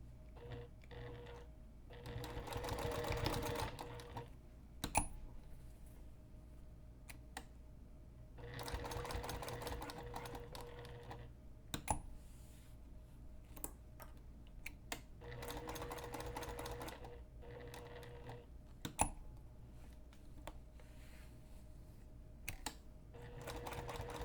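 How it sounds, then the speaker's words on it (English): A sewing machine stitches a rectangular reinforcement box through nylon backpack strapping and fabric in three long whirring bursts, with pauses and small clicks between as the work is turned at the corners. "So I'm going to sew a rectangular box, and if you wish, you can also sew an X through the box for extra reinforcement."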